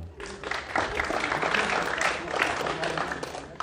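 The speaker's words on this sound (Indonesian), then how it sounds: "Tepuk tangan dong." Audience applause at an Indonesian stand-up comedy showcase, a steady wash of clapping running the full length with no gaps, moderately loud and slightly distant, with faint crowd murmur blended in.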